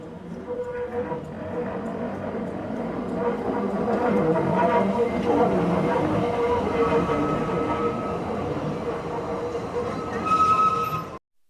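A heritage narrow-gauge steam train in Snowdonia rumbles past steadily with rolling wheel noise and faint metallic squeals, building slightly and ending with a brief louder screech.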